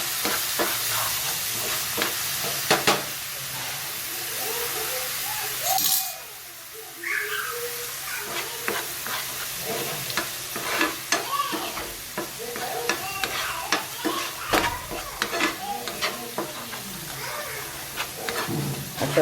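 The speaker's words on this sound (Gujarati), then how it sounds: "સરસ આપણો મસાલો શેકાઈ ગયો છે" Masala of red chilli powder, turmeric and salt roasting for a curry gravy in a pan, a steady sizzling hiss with frequent stirring scrapes and clicks, briefly dropping quieter midway before resuming.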